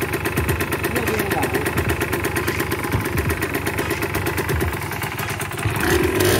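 A KMX motorcycle with an engine problem idles close by, a steady rough mid-pitched putter with rattling, clattering mechanical noise that runs unbroken throughout.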